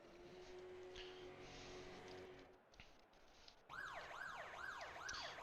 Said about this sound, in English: There's the sirens in the background indicating the session has ticked over.